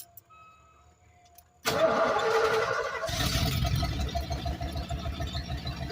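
A car with its fuel gauge on empty cranks and catches, then settles into a close, steady idle with a slightly uneven, pulsing beat. A faint hum comes first, and no one talks.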